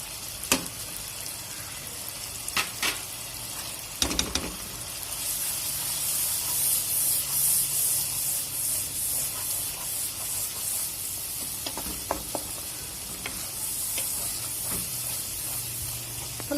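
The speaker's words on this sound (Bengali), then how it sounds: "এখন মশলা দেওয়ার পর কষাতে হবে যতক্ষণ পর্যন্ত উপর থেকে তেল উঠে না আসছে।" Spices with ginger-garlic paste, turmeric, chili and coriander powder fry in oil for a Bangladeshi-style egg curry, a steady close hiss and sizzle with a few sharp spatula scrapes and stirring clicks, no voices.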